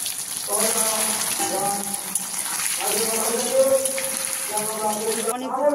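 Paneer pieces are lowered a few at a time into hot white cooking oil for paneer butter masala. A steady, rushing, watery sizzle runs throughout, with a voice heard faintly over it.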